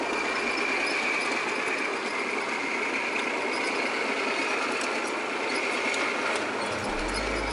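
Tractor-driven machine shredding old clothes into fibers, a loud continuous mechanical drone with a steady whine and rattle, unchanging throughout and with no talk.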